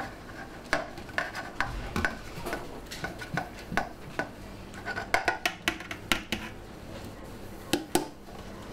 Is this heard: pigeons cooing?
no